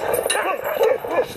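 Alaskan and Siberian huskies at a sled dog kennel yip and bark in short bursts, with a few whimpering notes, close and fairly loud, over a steady outdoor background.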